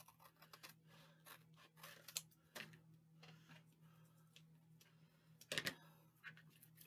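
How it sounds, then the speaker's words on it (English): Couture transfer cutters slicing through paper along marked lines: quiet, close snips and ticking clicks in an irregular series, with a couple of louder cuts, over a low steady hum. "I'm going to take my couture transfer cutters and I'm going to cut it right here on these lines."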